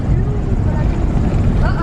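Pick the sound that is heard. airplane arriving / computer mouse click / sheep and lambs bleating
airplane arriving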